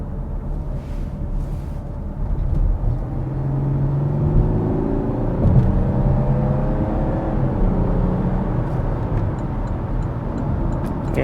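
A Porsche Cayenne Diesel cruising at low speed in sixth gear, its engine a steady low drone with road rumble and faint ticking from inside the cabin, no talk.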